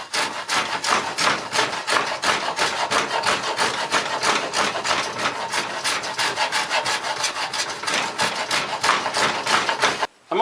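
A hand knife slices across hard wood grain while building an oil stone box, giving steady, close rasping strokes in an even back-and-forth rhythm that continue throughout with no talking.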